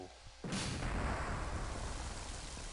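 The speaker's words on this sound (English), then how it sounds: "Lightning." A sudden loud crack of thunder with lightning in the video game Mother 3 bursts in after a quiet moment, then rolls on as a long, dense rumble that slowly fades.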